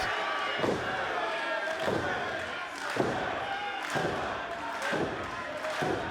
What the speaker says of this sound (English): the final elbow drop here, precision pointed